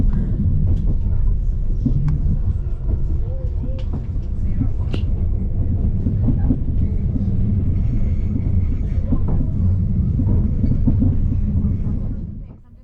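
A Northern Class 195 commuter train pulling into Leeds gives a steady, loud low rumble from inside the carriage, holding even for about twelve seconds before dropping away, with faint voices underneath.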